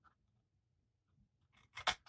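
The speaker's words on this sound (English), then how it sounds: "And then I'm going to cut at each score line" Scissors snip through cardstock at score lines while making a paper treat bag, a few quiet crisp cuts close by at the end after near silence.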